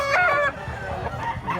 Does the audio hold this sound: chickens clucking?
yes